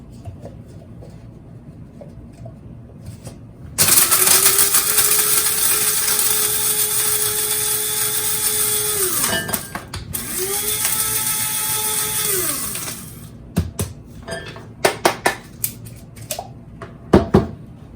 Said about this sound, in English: I like the fine dust that I get from the coffee grinder